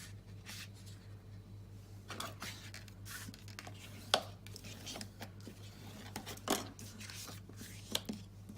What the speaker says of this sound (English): I'm just going to fold and burnish.